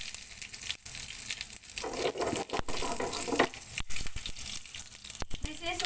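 A sizzling Indian tadka of red chili, curry leaves and asafoetida in hot oil, a steady bright crackling hiss that continues throughout, with a voice speaking over it.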